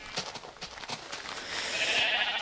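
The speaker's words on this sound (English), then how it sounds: "I heard somebody eat grass." Minecraft sheep eating grass, a brief in-game munching sound with short soft rustling bursts followed by a rising crunchy swell, set against faint game ambience.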